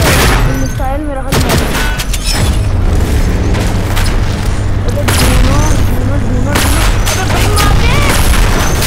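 Missile explosions and booming blasts in the shooter game Infinity Ops, loud and dense with rumbling impacts and bursts of gunfire, while a voice talks over the action.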